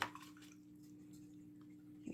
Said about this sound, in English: I'm going to rinse off the brush.